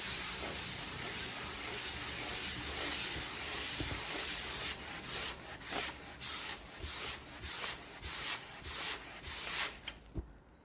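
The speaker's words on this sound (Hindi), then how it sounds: "अब हम इसको रब करेंगे वुल से" A thermocol styrofoam sheet rubbed with a wool cloth: a continuous scratchy rubbing that turns into about ten quick, rhythmic back-and-forth strokes, close and fairly loud.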